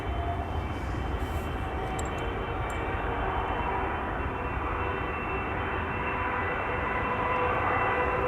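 A Boeing 777 airliner arriving at Schiphol Airport gives a steady, broad engine roar that holds at an even loudness throughout, heard from some distance with no voices.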